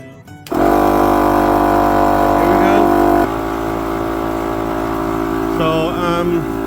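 A 12V portable air compressor inflates a 37x12.5x17 truck tire with a loud, steady mechanical buzz that starts abruptly and drops slightly in pitch partway through, while a voice speaks faintly over it.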